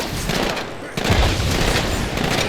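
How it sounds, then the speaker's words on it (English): A grenade explosion in the video game Halo 2 Anniversary bursts out amid dense, continuous gunfire and battle noise, a loud boom rising from the din with a voice briefly shouting under it. "Grenade, move!"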